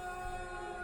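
Steady, droning siren wail in the horror game Observation Duty 8, holding constant tones alone for under a second.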